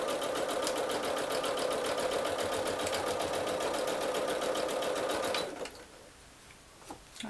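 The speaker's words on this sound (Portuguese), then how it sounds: "É bom dar uma dobradinha pra dentro e vamos costura reta devagar" A sewing machine runs a slow straight seam on a zippered necessaire, a close, steady rapid clatter for about five seconds that then stops, leaving a quiet room with a few small knocks.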